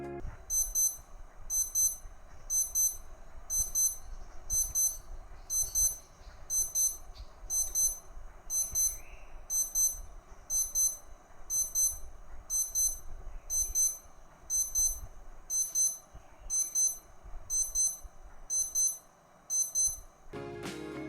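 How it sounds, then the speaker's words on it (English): A Casio W218H digital watch alarm beeps in short, high, rapid clusters, repeating steadily about once a second, crisp and close. "Just that familiar digital beep that's perfect for early mornings, reminders, or that last warning before your toast burns."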